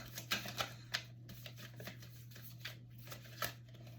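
Tarot cards are shuffled by hand in quick, uneven riffles and soft flicks, close and quiet over a low electrical hum.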